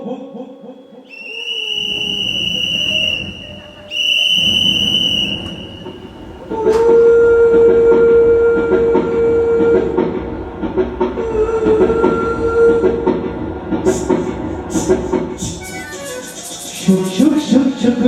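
Sound effect in a devotional song at a temple festival: two loud, sustained train whistle blasts, then a steady rolling, clattering rumble of a moving train with more whistle hoots near the end.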